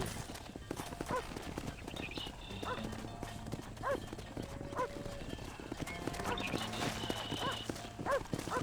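Horses trot with rapid rhythmic hoofbeats in the Red Dead Redemption video game, with an occasional whinny, steady and moderately close, under someone shouting over them.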